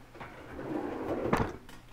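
A drawer from a makeup storage unit holding nail products, creams and soaps slides open indoors, a short scraping rumble that swells near the end, close by with no talk.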